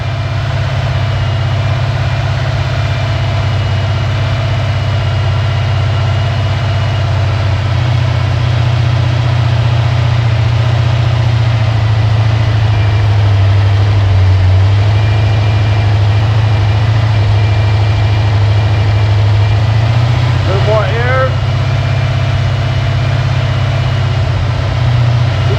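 A hydrogen-powered V8 engine runs steadily at 2000 RPM on a test stand, producing a loud, constant low drone with a brief rising whine near the end.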